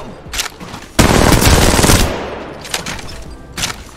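R99 SMG in Apex Legends fires in a loud, very rapid automatic burst lasting about a second, followed by shorter quieter bursts and trailing echoes.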